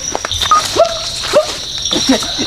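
A dog gives a few short, close yips and barks outdoors, with people talking in the background.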